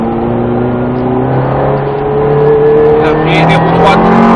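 A Ferrari F430 accelerates on the Circuit des Ecuyers during a driving course, its engine note climbing steadily and close, with an instructor's voice talking over it.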